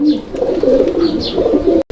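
Pigeons at a pigeon market cooing close by, low rolling coos repeating in a steady rhythm, with a few faint higher chirps in the background.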